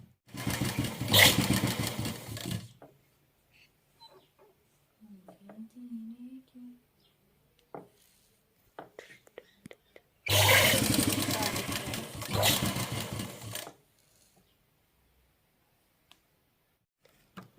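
A sewing machine stitching small pleats into old saree fabric, heard in two loud bursts of motor hum separated by a quiet stretch with faint handling noises.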